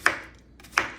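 Two sharp knife chops on a cutting board while cutting ingredients for green juice, spaced well apart, close and distinct in a quiet kitchen.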